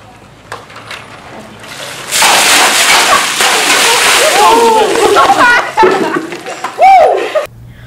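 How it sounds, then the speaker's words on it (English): Buckets of freezing water pour over teachers' heads in front of a school during the Ice Bucket Challenge, a loud sustained splash lasting several seconds amid shrieks and crowd voices, ending in a final burst before fading. "pour freezing water over their heads in front of the entire school"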